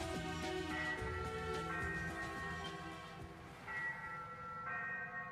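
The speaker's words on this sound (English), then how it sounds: "The ship's bell?" A ship's bell tolls aboard a ghost ship in Ys VIII, several resonant metallic strikes ringing out with long sustained tones that overlap and fade, loud and alone.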